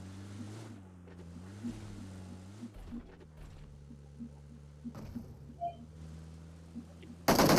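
A low, steady boat motor drone in the video game BGMI, with a wavering pitch, runs throughout, punctuated by soft knocks and splashes, ending in a sudden loud burst of noise.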